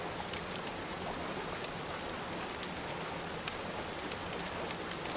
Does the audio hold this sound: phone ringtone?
no